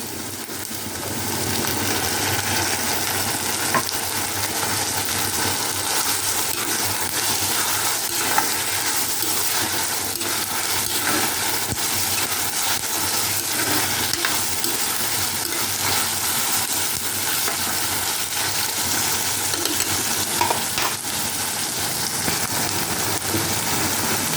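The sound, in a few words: frying green chili with ginger garlic paste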